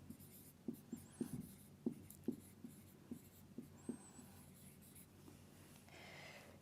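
A marker writes a phrase on a classroom board in a quiet room, making a series of short squeaky strokes and taps in an uneven rhythm, close and fairly soft, with a faint squeak near the end.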